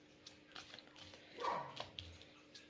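Brody the dog barks once or twice indoors, a short, muffled yelp near the middle, faint and fairly distant, over quiet room noise.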